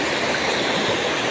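A river flows strongly past farmland planted with corn and rice, a steady broadband rush of water that stays loud and unbroken throughout, with no voices.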